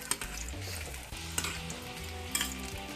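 Bihari layered taruaa frying in hot oil, a close, continuous sizzle broken by a few sharp clicks of a utensil against the pan.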